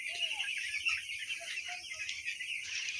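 Broiler chickens on a poultry farm keep up a faint, steady background chorus of high chirps and clucks while someone talks over them.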